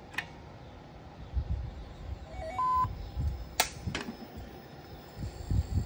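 A faulty Samsung 220V television that will not power on gives off a few faint, short electronic chirps and stepped beeps over a low hum and ambient noise, with a couple of sharp clicks.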